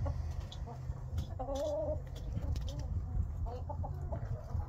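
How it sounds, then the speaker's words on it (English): Hens squabbling in a farmyard fight, with excited clucks and squawking cackles over a steady low rumble of background noise, close and fairly loud throughout. "Hen fight, hen fight."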